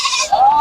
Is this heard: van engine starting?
no